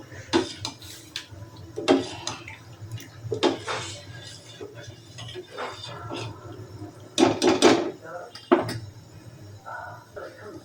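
Metal pots and utensils clink and clatter in a home kitchen while dal is being heated, with sharp intermittent knocks and scrapes under a woman's speech.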